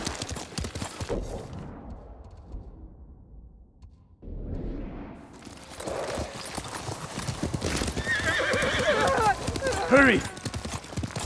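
A horse gallops in Ghost of Tsushima with rhythmic hoof clops and a whinny near the end, under brief game dialogue and a quiet stretch midway.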